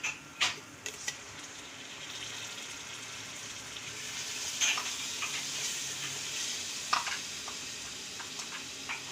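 Tomatoes frying in a pan with garam masala for fish biryani, a soft low sizzle under scattered clicks and taps of a spoon against the pan, fairly quiet with no talking.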